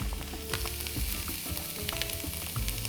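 Onions frying with sugar in a pan crackle and sizzle close up, with scraping stirs and light clinks against the pan, loud and busy with no voices.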